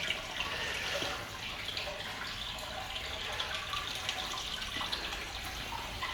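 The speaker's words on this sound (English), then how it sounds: "You can just probably hear in the background water trickling through the gate" Water trickling steadily through the gate vent of a dry dock at a historic boat yard, a soft continuous splashing flow heard in the background with no talk over it.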